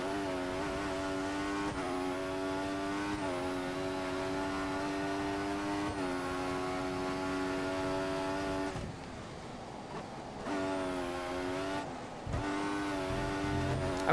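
A Formula 1 car engine in the game F1 2014 drones with a steady buzzy tone, shifting pitch with each gear change, briefly dropping out before revving back up.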